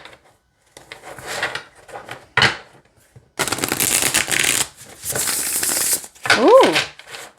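Macabre Tarot cards are shuffled in quick crisp bursts of riffling and snapping. Short pauses separate the bursts, and a brief vocal exclamation is heard near the end.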